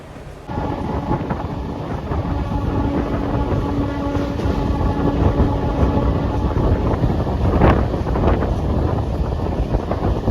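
Jhargram MEMU local train rolling along after leaving Santragachi, a sudden onset of steady loud rumbling with rattling and a brief louder clank partway through, continuing to the end.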